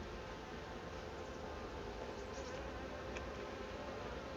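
Honey bees buzzing around a beehive heavy with honey, a faint steady drone of many insects with no clear breaks.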